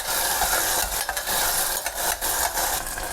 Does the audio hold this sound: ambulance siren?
no